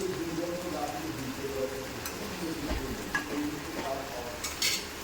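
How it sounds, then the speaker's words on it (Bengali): Spice masala of onion, garlic, ginger, tomato and green chilli frying in a pan while being stirred, with a continuous sizzle, scraping stirring strokes and a few clinks of utensil on metal, close by. "এখানে হচ্ছে মশলা কষছে, এতে পেঁয়াজ রসুন আদা টমেটো কাঁচা লঙ্কা আর কিছু স্পাইসেস দেওয়া আছে।"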